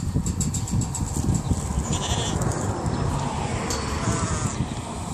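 A crowd of hungry goats, with a few sheep, bleats loudly and constantly while being hand-fed more goats than there is food for, their overlapping calls backed by steady outdoor noise.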